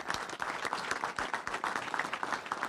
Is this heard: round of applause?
yes